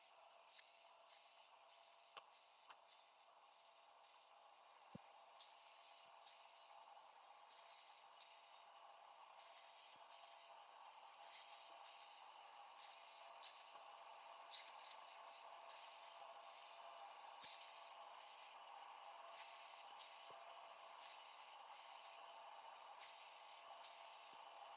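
Airbrush spraying pearlized paint onto fishing lures, heard as about twenty short hissing bursts in an uneven rhythm, close and fairly quiet, with no one talking.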